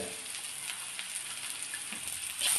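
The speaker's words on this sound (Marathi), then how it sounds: "हां थोडं परतून घ्यायचं कांद्याचा रंग बदलला पाहिजे" Onions sauté in a pan for Marathi aalu pithale, making a soft, steady sizzle with faint crackles, close but quiet, briefly swelling near the end.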